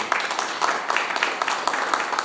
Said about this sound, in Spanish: Dale un aplauso fuerte al